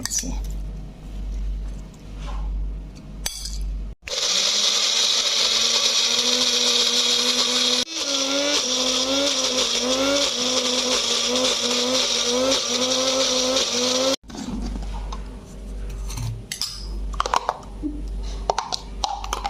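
A kitchen blender grinds onion, ginger, garlic and chilli into a paste, one loud continuous whirring burst of about ten seconds with wavering pitch, set between quieter stretches.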